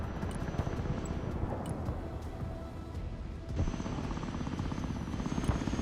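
Game helicopter from Broken Arrow, its continuous rotor drone and engine hum filling the whole stretch, slightly dipping then swelling again halfway through, with no voices over it.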